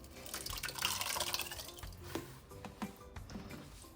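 Thick sweet potato, yam and cassava pudding batter pours into a pan with soft wet glugs and drips, close and quiet, without speech.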